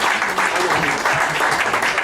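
Audience at a jazz tribute concert applauds in a loud, dense burst, with voices mixed faintly into the clapping.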